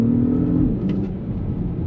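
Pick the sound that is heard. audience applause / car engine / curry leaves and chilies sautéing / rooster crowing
car engine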